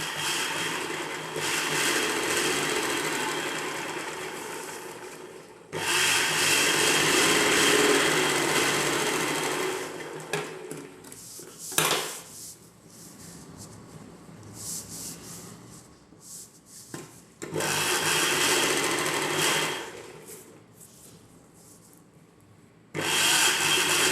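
A sewing machine stitches a lining piece up to the armhole of an umbrella-cut dress top in several close, steady bursts, with quieter pauses and fabric handling between runs.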